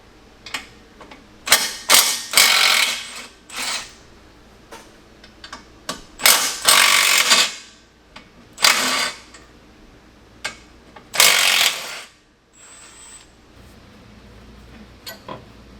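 Hand tools work loose the three ball joint nuts under a Honda Civic during a lowering spring install, giving irregular clicks, clanks and ratcheting bursts that come close and loud, then stop, with quieter gaps between them.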